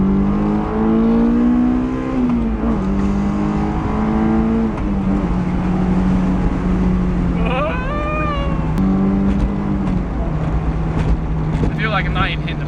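A Honda S2000 engine pulls hard with a loud, steady drone. Its pitch climbs in stages, then it revs up sharply a few times near the end.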